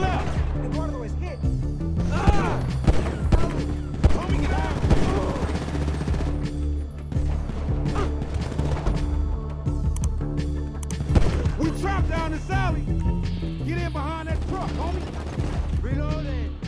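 Gunfire in a GTA 5 gunfight comes as dense, rapid bursts of shots, loud and continuous throughout, with excited voices shouting over it.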